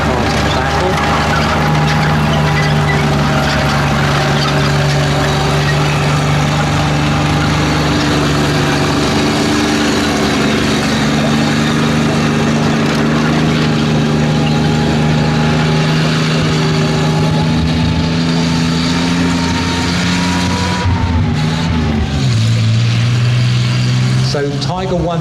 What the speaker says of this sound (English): I'll let you listen to the engine note as it drives around.